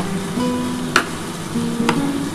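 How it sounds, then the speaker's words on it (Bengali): Chicken being fried and stirred in a pan over a high gas flame as it cooks down with whole garam masala, a steady close sizzle broken by two sharp scrapes or clinks of the spoon. "বন্ধুরা দেখো চিকেনটা কিন্তু আমার কষাচ্ছি ভালোভাবে।"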